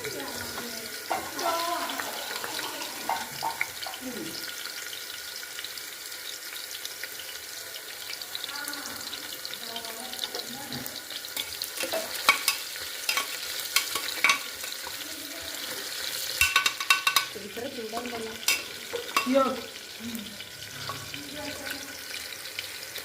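Ghee rice sizzles and is stirred in a pan, giving a continuous watery hiss with scraping and clinking, while voices talk intermittently nearby.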